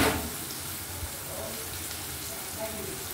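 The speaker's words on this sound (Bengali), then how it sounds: "হালকা করে ভেজে নিচ্ছি।" Onions frying lightly in a pan give a soft, steady hiss close by, fairly quiet and even throughout, with a brief louder burst at the start.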